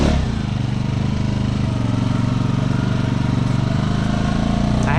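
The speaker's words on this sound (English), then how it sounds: "See if I can get this thing with spinning tires enough to wheelie." A vehicle engine revs hard while its tires spin in creek mud during an attempt to lift the front end, a loud, sustained throaty roar with churning texture that holds without a break.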